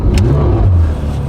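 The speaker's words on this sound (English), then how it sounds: "That familiar flat six Porsche sound." Porsche 991 GT3 flat-six engine firing up for the first time, a loud close low rumble that rises into a brief rev and then settles to a steady idle.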